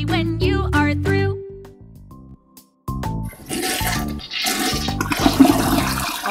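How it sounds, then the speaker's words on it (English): Cartoon toilet flush in the Elmo & Abby Potty Plan children's game, a loud rushing swirl of water that gurgles and drains for a few seconds, following a short bright musical jingle. "It's time to flush. Flush, flush, flush, that's what we do."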